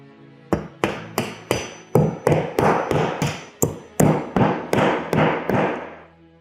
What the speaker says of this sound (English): we're going to take the metal wall anchors that are included in your kit and we're going to put them in and get those drove into the holes here